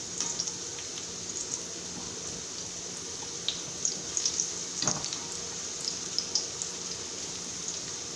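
Sweet potato chips frying in a pan, a steady close sizzle with scattered crackling pops and a brief louder spatter when they are flipped, no talking.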